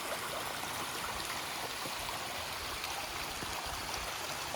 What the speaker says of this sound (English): That little waterfall is beautiful.